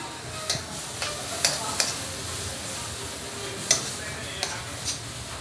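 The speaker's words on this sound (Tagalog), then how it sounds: "Init natin yung sisig." Sisig being reheated sizzles in a pan with a soft, steady crackle, broken by several sharp clicks and scrapes of stirring.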